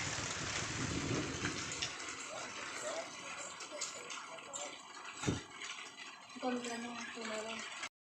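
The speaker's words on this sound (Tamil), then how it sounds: "மழை வர மாதிரி இருக்குன்னு சொல்லிக்கிட்டு இருந்தேன் மழை வர ஸ்டார்ட் ஆயிருச்சு" Rain beginning to fall at a temple, a broad steady wash of drops on surfaces with a brief thump midway and some tonal background sounds near the end.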